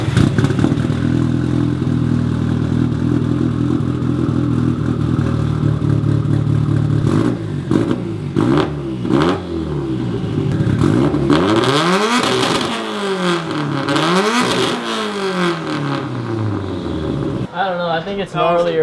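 Built Nissan SR20 engine on a dyno, droning loudly at first, then revving hard through rising and falling sweeps with clattering bursts. Voices talk over it near the end.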